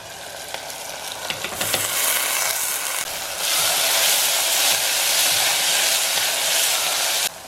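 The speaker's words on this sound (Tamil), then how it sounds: "ஸோ வெங்காயம் கொஞ்சம் வதக்கிட்டு பருப்பு போட்டு வெங்காயம் கூடிய நல்லா வதக்கிட்டு" Onions and masoor lentils sauté in a hot pan for dal pulao, a loud, steady sizzle with scraping stirs, intensifying partway through.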